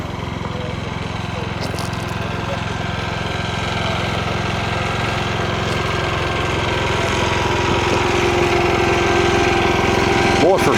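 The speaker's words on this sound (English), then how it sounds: "Boy, for such a big generator, that thing's pretty quiet." A large generator runs outdoors at a ham radio swap meet on a breezy day, giving a steady, even engine drone that holds at constant loudness throughout.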